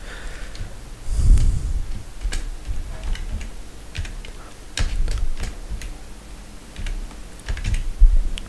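A site name is typed on a computer keyboard as a steady run of close, crisp key clicks with irregular bursts and brief pauses and no talk.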